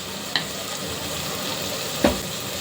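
Eggs frying in a pan seasoned with salt and chili powder give a soft steady sizzle, with two brief clicks of a utensil against the pan.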